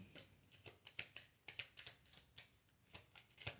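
Tarot cards are shuffled by hand in a quiet room, giving soft, repeated papery slaps and riffles in an uneven rhythm, close and faint.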